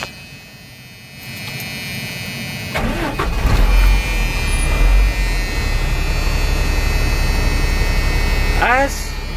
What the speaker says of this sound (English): Now, you're gonna start up the vehicle.